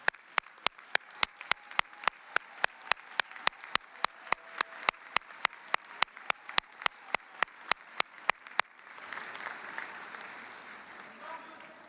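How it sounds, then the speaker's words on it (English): At a 2024 Salem State University commencement ceremony, sharp, evenly spaced claps close by beat steadily for about eight seconds, then give way to a softer, more distant wash of crowd applause for family and friends. "round of applause"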